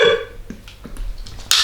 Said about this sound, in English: The hiccups are intense.